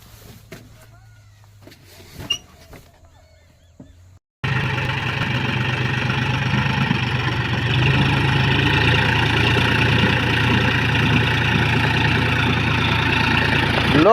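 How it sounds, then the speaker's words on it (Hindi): Tractor engine in a rural setting, quiet at first with faint sounds, then suddenly roaring loud and steady as it is opened up toward full RPM. "तो दिखाते हैं फुल आरपीएम कैसे खोले।"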